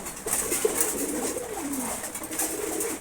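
A pair of uncommon-colored pigeons coos softly close by, a low rolling murmur that rises and falls continuously for a few seconds with no talking.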